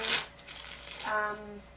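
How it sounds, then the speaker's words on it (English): A deck of tarot cards is shuffled close by with a short riffle of crisp paper flutter, and a voice speaks briefly underneath. "I like to shuffle on camera so that you guys know that I'm not rigging the cards."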